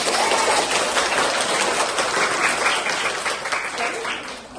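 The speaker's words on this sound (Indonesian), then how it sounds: "Aplaus buat kalian semua." Classroom audience at a microteaching session applauding, dense steady clapping filling the room, loud and near, tapering slightly toward the end.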